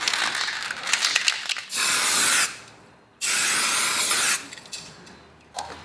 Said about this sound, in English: Now with the developer, which is D100, it says to do two or three light coats are preferred to a heavy coat.